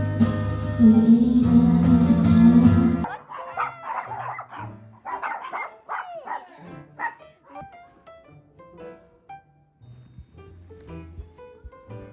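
A dog barking and yipping in short bursts of several excited, fairly close barks with pauses between them, heard after a few seconds of loud music and louder than the faint background.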